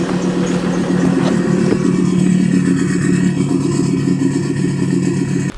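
A boat engine with a suspected bad water-pump impeller, overheating and pushing no water out the exhaust, is started and settles into a steady, loud, rough idle running close by with a clattering mechanical tone.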